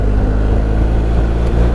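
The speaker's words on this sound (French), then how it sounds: "eh bien, sans embrayer." A BMW R 1250 GSA motorcycle shifts gears without using the clutch, its steady engine drone running loud and close with a slight change in tone around the shift and no talk.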